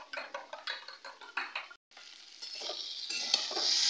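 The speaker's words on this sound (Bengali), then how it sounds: "এমনভাবে ডিমটাকে মিশিয়ে নিতে হবে" Egg mixed with salt, a utensil whisking in quick rhythmic strokes against a bowl, then a brief pause followed by a rising hiss like frying, close by.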